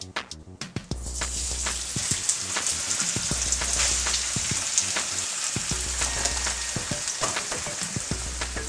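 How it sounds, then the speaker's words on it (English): Chopped bell pepper, onion, chicken and broccoli sauteing in a pan, giving a loud, steady sizzle with scattered sharp clicks and scrapes from stirring throughout; no one speaks. "Let me go ahead and start sauteing it."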